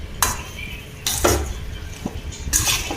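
Metal ladle scraping and clinking against a pan in a few short strokes as soaked black-eyed peas are mixed into tempering, with a soft sizzle underneath and no talking.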